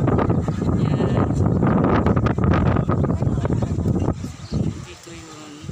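Wind gusting across a microphone outdoors on a farm, a loud rumbling buffet that holds for several seconds and then eases, with a voice talking underneath.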